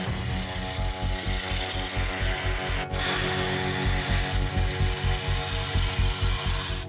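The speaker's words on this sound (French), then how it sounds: "On perce 2 trous en bas." A drill bores holes into the granite wall of a narrow tunnel ahead of blasting, a loud, steady grinding roar with a regular pulsing hammer beat running throughout.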